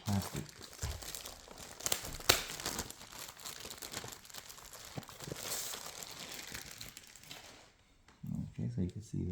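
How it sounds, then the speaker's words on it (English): An HP 15-dy4013dx touchscreen laptop with Intel Core i5 being pulled from its protective plastic wrapping: close, quiet crinkling and tearing of plastic in irregular bursts, followed by someone speaking at the end. "So let me get it out of the plastic."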